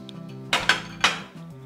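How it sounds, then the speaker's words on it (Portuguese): Gorgonzola cream sauce being stirred in a pan, giving three quick metallic clanks and scrapes of a utensil against the pan in close succession, close and clear over a faint background hum. "Vou continuar mexendo um pouquinho."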